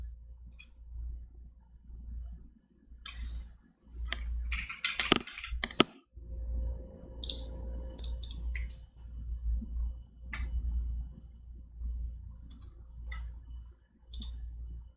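Keys on a computer keyboard clatter in quick bursts and pauses, close and clear, with short clusters of rapid clicks over a low steady hum.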